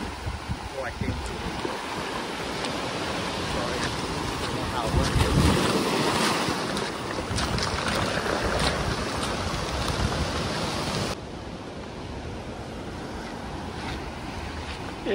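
Surf rolling onto Honokalani black sand beach at Waianapanapa State Park, Maui, heard from a coastal trail as a steady broadband wash that swells midway, with wind buffeting the microphone and no talk.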